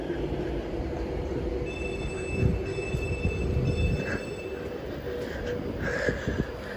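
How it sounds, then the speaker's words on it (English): An Avanti West Coast Pendolino at Stafford station runs with a low rail rumble, thin high wheel and brake tones, and a few clanks that rise and fall, moderately distant. "Avanti West Coast Pendolino service from Manchester Piccadilly to London Euston"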